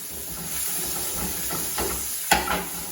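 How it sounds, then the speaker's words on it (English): Food sizzles in hot oil on a grill, a steady broadband hiss running throughout with a brief louder spatter burst near the end, fairly close and without talk. "You hear the sizzle"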